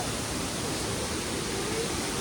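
Steady, loud broadband roar of the largest of the Maya King Waterfalls in Belize, a continuous wash of falling water filling the whole span with no breaks and no voices.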